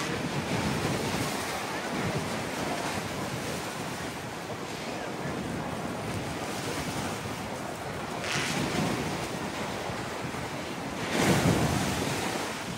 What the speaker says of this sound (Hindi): इनमें से जो हवा और पानी गुजरते हैं, आप सिर्फ आवाज़ें सुनें इसकी